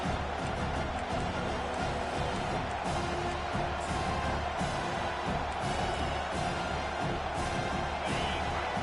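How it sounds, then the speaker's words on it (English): A football stadium crowd at a Miami vs UGA game roars continuously, a dense, loud wash of cheering and noise filling the whole stretch without letup. "Listen to this crowd just shaking the girders of this place trying to help their defense."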